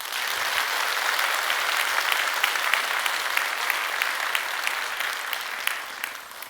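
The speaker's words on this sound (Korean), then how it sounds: "박수 한번 해주셔요" A church congregation at a Korean worship service applauds steadily, a broad, even roar of many hands clapping together, sustained and fairly loud throughout with no speech over it.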